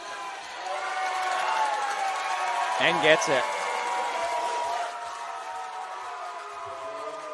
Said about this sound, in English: The crowd is very, very hostile here at the moment for the game that we are seeing.